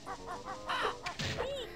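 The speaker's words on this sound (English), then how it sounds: "I thought I killed that bird." Crow-like bird cawing in the Banjo-Kazooie video game, a few harsh, grating calls in quick succession over light game music, close and fairly loud.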